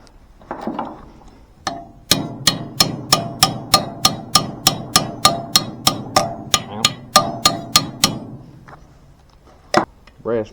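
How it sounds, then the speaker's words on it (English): About seventeen sharp, evenly spaced metallic hammer blows on a brass punch while fitting a handle spring on an LA/LB engine, loud and close, with someone talking briefly before and after. "I hope this thing don't fly all to pieces whenever I go to hammer that."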